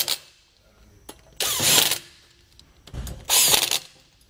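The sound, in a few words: tightening nuts back down on studs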